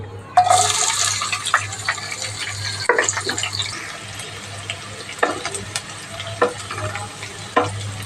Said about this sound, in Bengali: পেঁয়াজটাকে সুন্দর করে ভেজে নেব